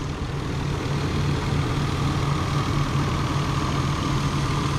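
A 1993 Lexus GS300 engine idles in a steady, even drone with a low rumble that stays constant throughout, close and unbroken, with no voices over it.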